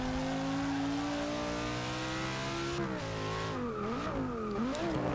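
A 2016 Audi V10 race car without turbochargers revs loud and steady in the Forza Motorsport 6 racing game, its rising engine note climbing in pitch and then wavering through quick throttle blips and gear changes, with no voices over it.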